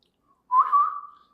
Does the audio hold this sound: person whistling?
yes